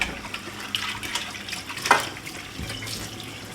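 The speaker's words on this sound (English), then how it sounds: "Esther, the hot water" Hot water runs steadily from a kitchen tap in a home during cold weather, a continuous close hiss and splash with a brief louder gurgle midway, and no voices.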